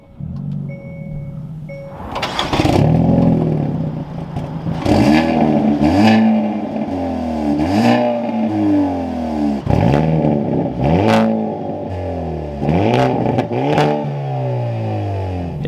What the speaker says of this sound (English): let's fire this up to go through all of that